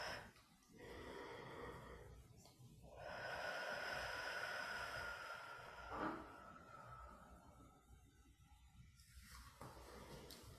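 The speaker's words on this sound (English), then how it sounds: "And let's blow into the basket 3 times." Several slow breaths blown out into a basket, soft airy whooshes rising and falling in long swells, fairly faint and close, with quiet gaps between them.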